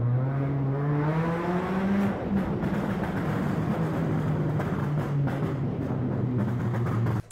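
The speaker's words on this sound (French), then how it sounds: "Ah, une 206 RC, magnifique." A Peugeot 206 RC engine revs steadily upward, pitch climbing and then holding a strong sustained drone, loud and fairly close with road and wind noise before it cuts off abruptly.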